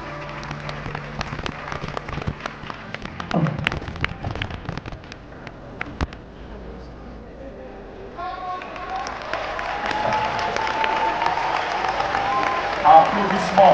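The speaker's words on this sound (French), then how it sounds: "Applaudissements" Steady crackling applause rises after a quieter stretch of scattered noise and brief voices, filling the hall with a broad, sustained patter of clapping at an arts festival closing ceremony.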